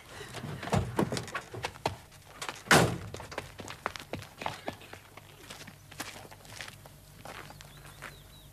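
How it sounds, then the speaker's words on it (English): A door is unlocked and opened in a comedy scene, with scattered thuds, footsteps and a louder clunk near three seconds, fairly close and without talk. "I'll unlock the door."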